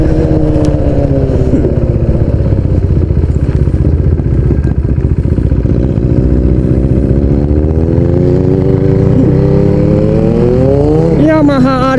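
A Yamaha R6 1000cc motorcycle runs at speed, its engine droning loud and close with rising and falling pitch as the rider works the throttle. Wind rush sits over the engine, and a revving surge comes near the end.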